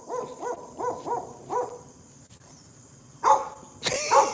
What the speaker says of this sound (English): Hate this damn dog next door, man.